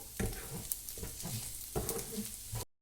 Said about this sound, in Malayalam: പിന്നെ കുറച്ച് എണ്ണ, പിന്നെ ഒരു പാനിലിട്ട് അത് വരട്ടുക